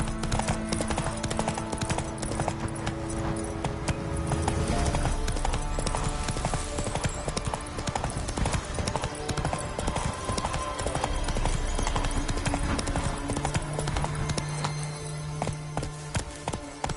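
Roach the horse's hooves clip-clop steadily in The Witcher 3, a dense, loud, close rhythm of hoofbeats over layered game ambience and music for the whole stretch.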